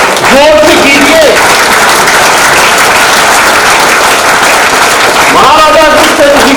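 A large crowd at an Aggarwal community gathering claps loudly and continuously in honour of Maharaja Agrasen, with voices calling out over the applause at the start and again at the end.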